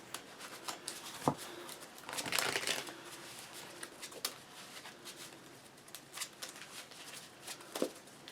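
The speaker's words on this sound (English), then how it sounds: "So we'll shuffle up here." A deck of Cardfight!! Vanguard trading cards being shuffled close up in quiet surroundings, with soft riffling flutters, crinkly slides and an occasional sharp tap, in irregular bursts over several seconds.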